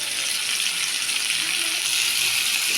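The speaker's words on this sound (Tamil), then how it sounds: "சீலா மீனும் கவலை மீனும் போட்டு வறுவல் பண்ணுறேன் இன்றைக்கி" Seela and kavalai fish frying in oil, heard as a steady, even hiss that holds without a break, fairly loud and close, with no speech.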